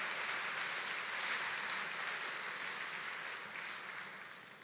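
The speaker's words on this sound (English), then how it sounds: "that's worth a round of applause" Applause from a church congregation during Sunday Mass at Christ the King in Tampa, a broad even clapping that holds steady and then slowly fades toward the end.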